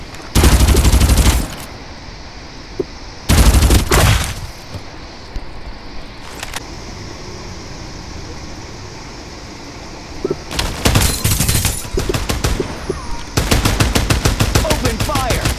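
Automatic gunfire exchanges in the battle royale shooter Farlight 84: loud bursts of machine-gun fire in separate volleys near the start, then dense rapid fire again toward the end, with quieter game ambience between.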